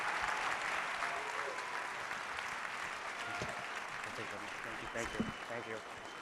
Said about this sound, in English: can you all do a big round of applause for these 5 amazing researchers?